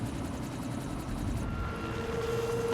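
Helicopter rotor drone in the video game Quantum Break, a steady, dense throb that holds at a constant loud level throughout, with no talk over it.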